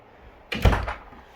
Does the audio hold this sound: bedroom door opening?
yes